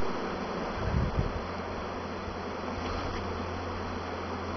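Honey bees buzz softly and steadily while a package is installed into a hive, a low continuous hum with wind and handling noise, a brief louder rustle near the start.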